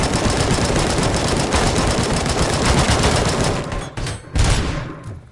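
The ED-209 robot in the RoboCop: Rogue City video game fires its machine gun in a loud, rapid, sustained burst, then breaks off briefly before a final heavy blast near the end.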